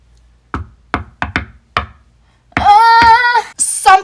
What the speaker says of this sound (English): I heard another knock